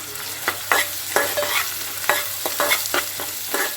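Turmeric being stirred into onion and green chili frying in a pan for a flat bean and tomato curry, with repeated spoon scrapes in an irregular rhythm over a steady low sizzle, close and clear with no talk.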